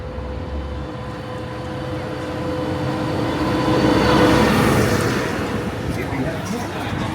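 The Disneyland Resort tram rolls toward the Mickey and Friends and Pixar Pals stop, a steady, loud rumble and whir of wheels and motor that swells slightly midway, with indistinct voices mixed in.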